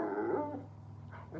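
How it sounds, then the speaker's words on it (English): A dog in training, guarding a bed indoors, growls and barks; a rough, close growl rises then eases, followed by a short bark-like burst near the end, with no talking. "my dog's getting rowdy"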